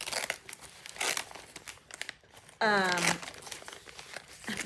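Thin plastic baggie holding a tissue-culture Philodendron patriciae plant is snipped open and crinkled, a short crackly burst near the mic between quiet stretches.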